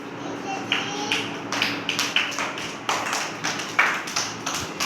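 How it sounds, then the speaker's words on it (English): Nursery class children clap for a classmate, a ragged series of quick, close claps in an indoor classroom, with voices talking underneath. "Clap for Dua"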